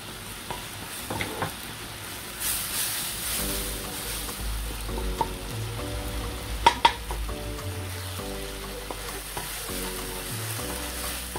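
Spices and bay leaves frying in a pan while being stirred for Indonesian pepes tahu ikan teri, a constant close sizzle with scraping strokes of the spoon and a few sharper clinks, no voices.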